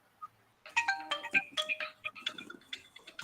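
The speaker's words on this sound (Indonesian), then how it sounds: "Diangkat dulu yang dapat telepon." A mobile phone ringtone plays a bright, melodic tune of repeated electronic notes during a curriculum training session. It starts after a brief pause and rings continuously at moderate volume, with no talking over it.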